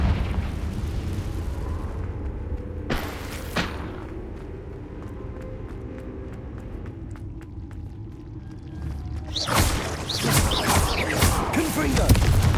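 Confringo blasting spells burst repeatedly in the Hogwarts Legacy game, with a sharp blast early and a longer, heavier explosive rumble near the end over ongoing combat sounds.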